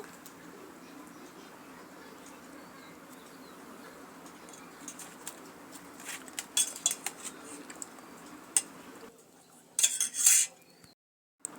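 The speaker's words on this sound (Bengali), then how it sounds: "এইসব উপকরণগুলোকে আমি ভালোভাবে মিক্স করে নেব" Spoon stirring and scraping chilli chicken ingredients in a bowl, with scattered light clinks and taps over a quiet room, soft birdsong faintly in the background.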